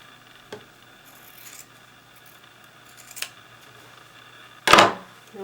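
Scissors snip through the seam allowance of a thick knit garment fabric, with two light cuts and then one louder, longer cut near the end, all in a quiet room with no talking.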